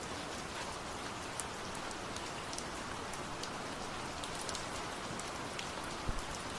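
Steady rain falls on a warm summer night, a dense unbroken hiss of drops with occasional louder splats, even and close throughout.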